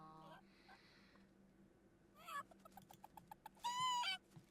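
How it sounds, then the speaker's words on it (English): Hens and a rooster in The Sims 4 video game clucking and calling, a few short bursts and one longer honking call near the end, fairly quiet against a low background hum. "She's getting to know these hens, and the rooster didn't necessarily care for her all that much."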